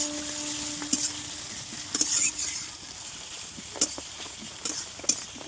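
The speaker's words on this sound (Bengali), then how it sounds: "পেঁয়াজটা ভালো করে কষানো হয়ে যাক" Onions sizzle in a pan on a wood stove while a metal spatula stirs, scrapes and clinks against the pan in several sharp strokes over a soft continuous frying hiss.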